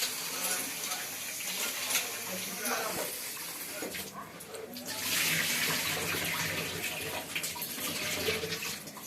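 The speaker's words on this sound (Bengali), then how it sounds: "তো আমি এই তো চালটা ধোবো।" Soaked rice being washed in water, with splashing and running water from a tap rising and falling throughout, close by and moderately loud, with a voice speaking briefly over it.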